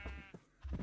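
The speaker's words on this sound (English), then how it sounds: "Here are the cows." Minecraft cows moo in short, low, bleat-like calls, two to three quick bursts with a brief gap between them, quiet and close in the game.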